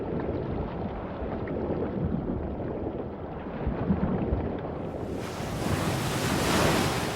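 Ocean surf rolls and crashes in a steady, dense roar with wind noise, swelling louder and brighter near the end, no voices present.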